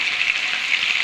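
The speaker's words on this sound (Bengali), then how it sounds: "আলুটাকে লাল করে ভেজে নেব" Potatoes fry in a separate frying pan, a steady close hiss and crackle of hot oil that holds even throughout the short moment with no voices.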